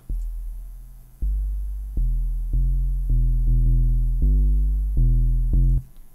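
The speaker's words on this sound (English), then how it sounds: "if we take a tube distortion, we just heat up below 300 hertz, and we crank this drive knob" Synth 808 bass driven through tube distortion, a series of deep booming notes with gritty harmonics, each sustaining and decaying before the next hit, about eight notes in a rhythmic pattern.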